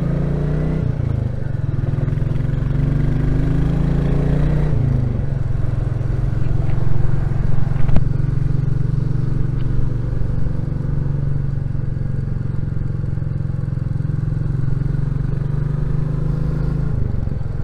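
Royal Enfield Classic 350 motorcycle on the move, its single-cylinder exhaust giving a steady low thump that drops in pitch early on and then holds an even cruise, with some wind and road noise.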